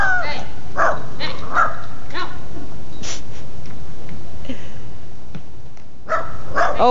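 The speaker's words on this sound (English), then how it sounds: "It's okay, my dog barks too." A dog barks several times in short bursts at moderate distance outdoors while a person speaks over and between the barks.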